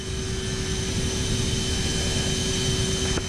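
Airliner climbing past 4,500 feet in Microsoft Flight Simulator, a steady loud jet engine drone with a constant whine and no voices.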